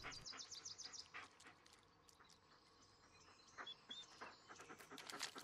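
Dog panting in the Blair Witch video game, a quick rhythmic huffing near the listener with faint whimpers and insect chirps in a quiet forest backdrop.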